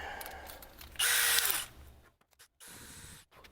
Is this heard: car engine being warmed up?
no